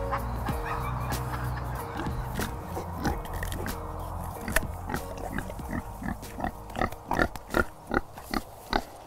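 Pigs on a permaculture farm, grazing in rotation, snuffle and chomp nearby, with steady grunting and rooting giving way to a run of rhythmic, repeated crunching bites growing louder toward the end, with no talking.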